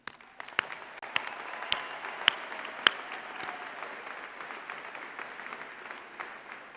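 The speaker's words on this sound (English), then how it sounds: "a tremendous round of applause." Graduation audience at a business school commencement applauding, a distant, fairly quiet, sustained patter of clapping in a large hall with a few sharper claps near the start.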